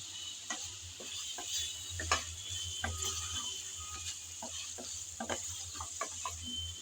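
Spice masala with onion, garlic and dried churi fish fries in a pan, a steady faint sizzle under repeated scraping stirs and light clinks of a spoon against the pan.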